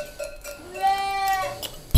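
Sheep in a village flock bleat close by, several wavering calls in quick succession, ending with a sudden thump.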